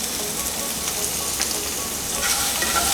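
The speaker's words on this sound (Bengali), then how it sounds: "একে একে গাজর, বিনস আর একটু নুন দিয়ে দেবো" Carrots and beans with a pinch of salt fry in a pan for vegetable pulao, giving a steady, close sizzle that swells slightly louder toward the end.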